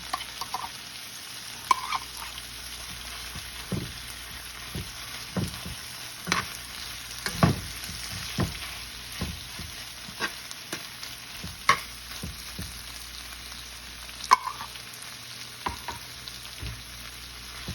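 Corned beef fries in peanut oil with a steady low sizzle, punctuated by frequent clicks and scrapes of a utensil stirring the pan, close and without talk.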